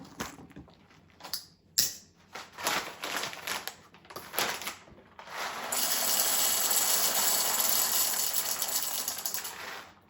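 A Breville Barista Pro dispenses coffee beans with clattering, ratcheting bursts before its grinder settles into a sustained, loud whirring grind at a fine setting, close by with no talking.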